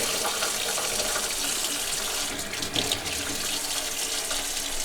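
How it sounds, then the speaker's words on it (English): Water pours steadily from a tap on a small-scale farm in Sweden, a loud, continuous broadband rush that holds for the whole stretch with only slight wavering, close to the listener and without talk. "Nice, there is water coming out of the tap, as you see."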